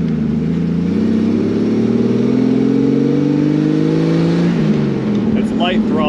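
A 1995 Jeep Wrangler with the 4.0 engine revs hard at full throttle, a loud, steady, close roar whose pitch climbs slowly, then drops off near the end, with a voice heard briefly at the close.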